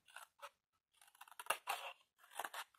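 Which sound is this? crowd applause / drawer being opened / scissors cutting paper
scissors cutting paper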